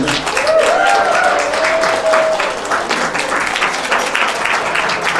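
Wedding guests at a reception applaud loudly and steadily, a dense wash of clapping filling the room, with a faint sustained tone drifting above it early on.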